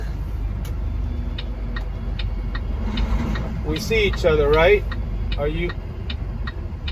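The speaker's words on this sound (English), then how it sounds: "Now here comes this expedited truck." An expedited truck comes up and idles nearby on a road beside a trailer, its engine a steady mid-pitched rumble running throughout, with a driver talking over it partway through.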